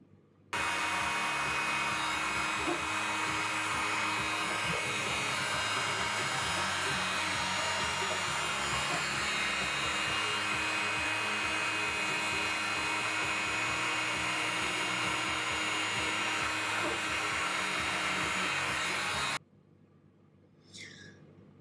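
Heat gun or hair dryer blowing warm air onto a vinyl decal on motorcycle luggage, a loud, steady whooshing drone for about twenty seconds that then cuts off into quiet handling noises.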